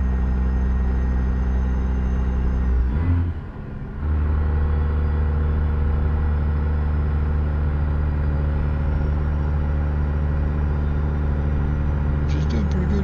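A heavy Peterbilt 389 truck in American Truck Simulator, hauling 66,000 pounds, climbs hills with a loud, steady diesel drone. The engine note dips briefly during a gear change, then returns to a constant pulling roar.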